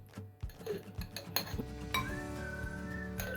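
Green chilli pickle is spooned into a dry glass jar, with clinks and taps of a spoon against glass ringing out in irregular bursts, close and fairly quiet.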